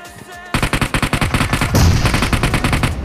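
Rapid automatic gunfire from the video game PUBG, played in squad mode: a loud, close burst of evenly spaced shots that run together into sustained fire for about two and a half seconds.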